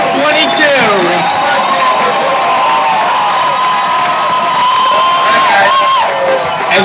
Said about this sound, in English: And listen to this crowd at Phil Browning Stadium.